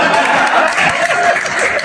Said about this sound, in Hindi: पूरी समाज ताली बजाने के लिए जाओ महाराज,